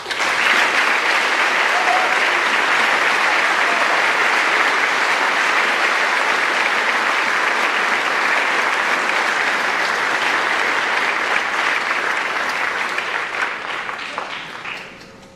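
Sustained audience applause fills a high school senior awards night for the class of 2022, dense and loud clapping from a large crowd that holds steady before tapering off at the end.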